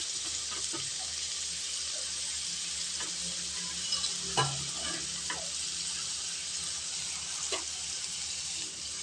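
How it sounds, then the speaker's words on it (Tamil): Two chopped large onions sauté in a pan with a constant hissing sizzle, broken by a few soft scrapes and clicks of stirring; no one speaks. "வெங்காயம் வதங்கட்டுங்க."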